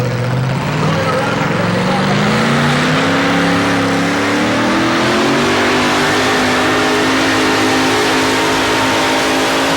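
A truck engine at a 1987 truck pull in Raleigh revs loud and strained while pulling a sled, its pitch climbing steadily then holding at a high roar, with faint voices underneath.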